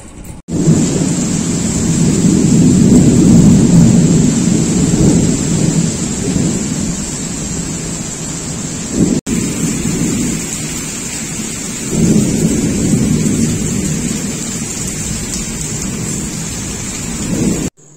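Heavy rain pours down steadily while thunder rumbles deep and loud, swelling and fading in long rolls through the whole stretch.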